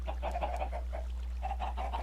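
Chickens in a Minecraft chicken machine cluck in quick, repeated bursts over a steady low electronic hum, the clucks coming in two clusters with a brief lull between.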